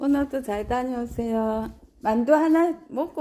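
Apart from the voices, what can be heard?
None of the usual background noises is heard.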